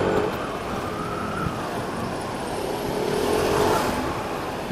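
A Yamaha NMAX 2022 scooter rolls along with the throttle released, its engine barely audible under steady road and wind rush, with a faint whine drifting in and out and no talking.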